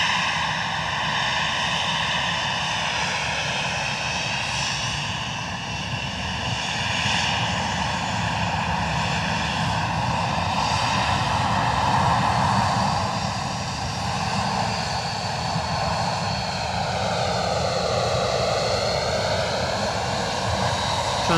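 A Transavia airliner taxis onto the active runway at Edinburgh Airport, its engines holding a steady droning hum with layered tonal whines that waver slightly, moderately loud and continuous.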